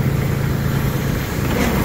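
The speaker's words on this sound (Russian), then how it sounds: "Потихоньку трактор поползет" A Kubota GB20 mini tractor engine runs steadily while the tractor drives, a loud, continuous low rumble close by with no talking.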